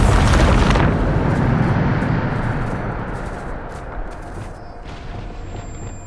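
A Bombarda blasting spell explosion from Hogwarts Legacy on PS5 hits with a loud, sharp burst, then a long rumbling tail that slowly fades, with a few faint crackles afterward.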